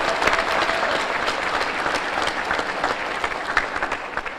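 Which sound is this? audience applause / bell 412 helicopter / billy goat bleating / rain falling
audience applause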